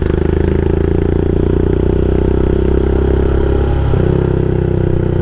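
A custom Royal Enfield Himalayan rolls over a speed bump, its engine thrumming steadily and close with a light clatter and a brief jolt near the end. No one talks.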